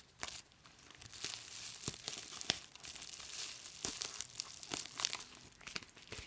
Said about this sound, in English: you can tape the bottom two pieces with a piece of tape